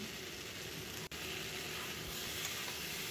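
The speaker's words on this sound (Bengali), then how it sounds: "আমি সবজিগুলো তেলের মধ্যে ভালো করে ফ্রাই করে নিচ্ছি" A steady, dense sizzle of chopped tomato, peas and green chillies frying in hot oil, continuous and close with one brief dropout.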